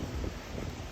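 Steady wind roars and buffets against the microphone on a cold, windy night, a dense low rumble with no voices.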